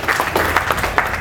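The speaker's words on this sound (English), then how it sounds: "Give yourselves a round of applause" A short burst of clapping from a community audience at a legislative task force listening tour kick-off, several hands applauding together in a quick, brief round.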